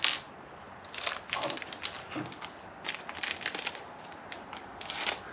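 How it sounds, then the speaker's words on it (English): A plastic bag of motorcycle wheel balancing weights is sliced open in a garage: a string of close, crisp crinkling and crackling bursts of plastic over about five seconds, with no talk. "let me cut open the next bag"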